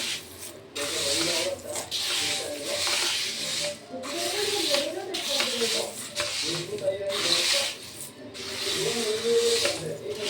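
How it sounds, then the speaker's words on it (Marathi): A mixer grinder whirs through roasted grains and dry fruits in a kitchen, running in loud, steady grinding bursts with brief pauses between them and a rattling, gritty texture throughout. "थोडं थोडं मिक्सरला लावून घ्या."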